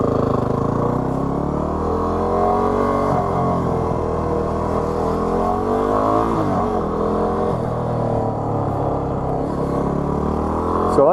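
A 250cc dual-sport motorcycle being ridden gives a continuous engine drone whose pitch rises and falls as the rider shifts and changes speed, steady and close throughout.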